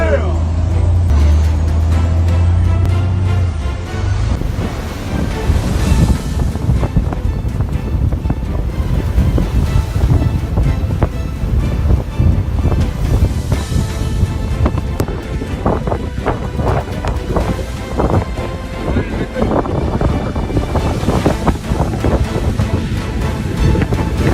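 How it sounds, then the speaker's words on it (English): Storm waves crash and surge around a struggling boat at sea, a loud continuous roar of water with wind buffeting the microphone and repeated heavy impacts throughout. "This boat is struggling to survive in rising waves, seemingly moments from being swallowed by the wrath of the storm."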